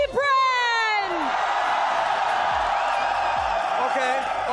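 Esports crowd at a Mobile Legends (MLBB) tournament final cheering loudly for their team, with a few sharp whoops and yells at first, then a steady wash of roaring applause and shouting that fills the whole stretch.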